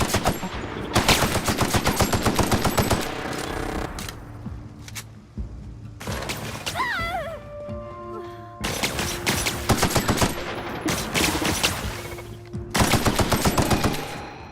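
Gunfire in The Outer Worlds erupts as long bursts of rapid automatic shots, loud and close, broken by short pauses where a whooshing sci-fi effect sounds, then the rattling fire resumes.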